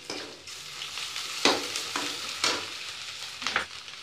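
Ginger sizzling in hot oil for a colocasia leaf curry, a soft continuous fry broken by several bursts of scraping as it is stirred around the pan.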